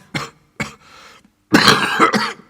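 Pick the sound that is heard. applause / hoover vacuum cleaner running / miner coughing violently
miner coughing violently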